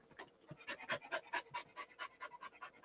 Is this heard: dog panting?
yes